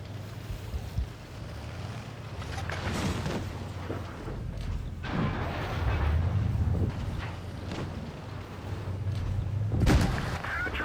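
Tank cannon shots in the online battle game World of Tanks Blitz, with several sharp booming blasts spaced a few seconds apart over a steady rumbling, windy battlefield bed.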